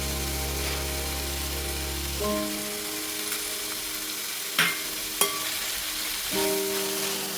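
Onions with salt sauté in a pan for chicken curry, giving a steady, close sizzle with a few sharp clinks of a utensil against the pan and no talking.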